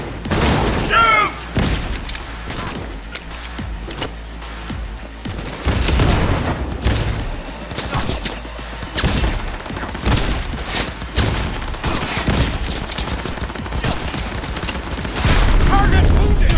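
Repeated gunshots and bursts of automatic fire crack through a Cyberpunk 2077 firefight, with several loud sharp hits spread across the span, heavy low rumble between them and voices shouting intermittently.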